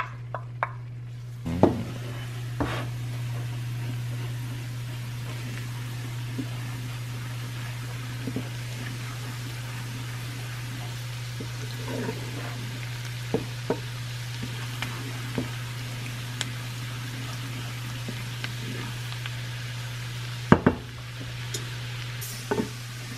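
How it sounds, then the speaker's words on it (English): Butter with garlic, thyme and chives sizzles softly in a pan while being stirred, a faint steady fry under a low hum, with occasional sharp clicks and scrapes of the utensil against the pan. "Cook your butter for about a minute and keep stirring so your garlic doesn't have the time to burn"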